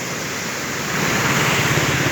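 Water pours into a wide canal lined with trees, a close, steady rushing wash that swells slightly louder over the brief moment.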